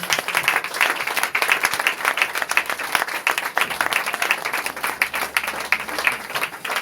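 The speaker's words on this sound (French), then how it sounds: "Est-ce qu'on peut acclamer le Seigneur bien-aimé?" A church congregation applauding the Lord during a French-language sermon, steady dense clapping from many hands filling the room for the whole stretch, loud and sustained without a break.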